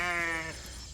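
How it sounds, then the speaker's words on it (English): A ewe in a flock of female sheep on a farm gives one loud, close bleat that wavers briefly and fades into farmyard background noise. "So this is all of our girl sheep here."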